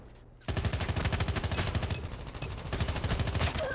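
Rapid automatic gunfire in a first-person shooter video game, a loud, continuous rattling burst of closely spaced shots that runs almost without pause after a brief quiet start.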